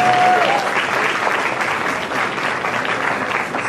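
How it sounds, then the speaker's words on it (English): Audience applause fills a bodybuilding awards ceremony at an IFBB pro posedown, a dense, steady roar of clapping hands that holds at full strength from start to finish. "Give them all a big round of applause"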